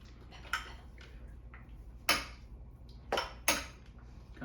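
Monkey bread pieces coated in garlicky butter are tossed and stirred in a pan, giving a few quiet, sharp clinks and scrapes of utensil on metal, spaced irregularly.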